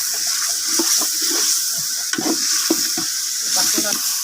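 Chicken biryani ingredients sautéed in a pot during outdoor garden cooking, giving a steady sizzle with intermittent scraping stir strokes, close and moderately loud, with no talking.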